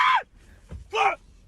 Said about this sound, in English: what a man sounds like when he screams